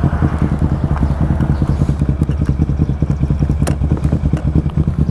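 A motorcycle engine runs close by in Calatagan, a steady throbbing putter with rapid low pulses through the whole stretch and a faint voice mixed in.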